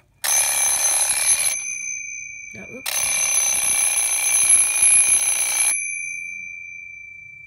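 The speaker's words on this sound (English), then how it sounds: "when this clock rings, it will literally scare you to death because it's so loud" A Gabriel wind-up alarm clock rings very loudly with a harsh metallic bell in two long bursts, split by a short pause and a brief spoken exclamation.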